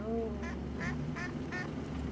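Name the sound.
ducks quacking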